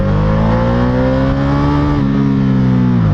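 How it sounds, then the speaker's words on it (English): Ducati Diavel 1260S motorcycle with stock exhaust, engine held above 4000 RPM while riding, a loud, steady, deep droning exhaust note with rising pitch that dips briefly near the end, heard up close without voices. "Now, being over 4000 RPM, I think it sounds pretty good for a stock exhaust"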